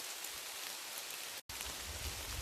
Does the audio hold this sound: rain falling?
yes